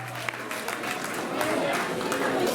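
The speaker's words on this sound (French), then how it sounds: "Sous vos applaudissements" An audience at a community section party applauds as the performers walk in, steady clapping that swells slightly toward the end with a voice briefly audible underneath.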